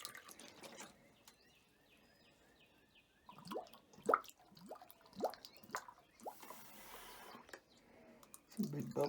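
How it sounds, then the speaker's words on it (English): Large water bubbles gurgling out of a home water-system pump that had frozen, heard as irregular wet drips, plops and squishy bursts with quiet gaps between, close by and fairly faint. "Some big bubbles came out there."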